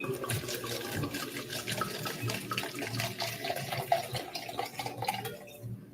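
Liquid pours steadily into a large cup for several seconds in a continuous, moderately close trickle, with no talking.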